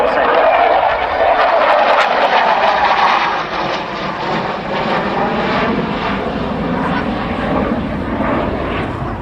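A Dutch F-16 roars past at an air display with its afterburner lit, a loud, broad jet blast that sweeps and fades slightly as it passes, with a commentator talking over it.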